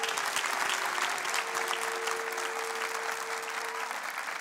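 A talent-show audience claps for the young singer Rodrigo after his audition, a sustained, even wash of applause from a large crowd with a faint steady tone running underneath.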